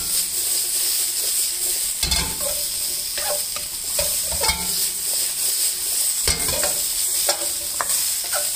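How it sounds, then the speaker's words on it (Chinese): Green beans dry-stir-fried in a wok for a Sichuan dish give a loud steady sizzle, broken by repeated scraping strokes of the spatula against the pan, close up with no talking. "这干煸四季豆就这样干煸的炒，然后呢又不焦又不炒焦"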